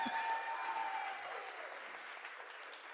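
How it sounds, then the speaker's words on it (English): Applause from an audience at a student oratorical competition, a dense patter of clapping that starts strong and slowly tapers, heard alone without talk. "Please give them another round of applause."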